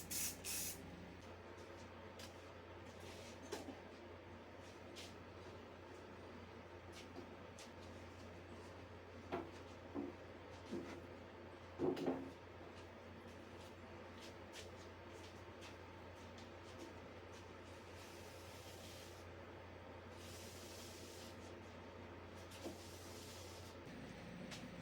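Spray can hissing anodized paint onto parts for a Baja 165 motorbike build, a soft steady spray with faint clicks and small knocks, quiet and close.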